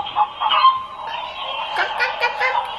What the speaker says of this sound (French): Poule.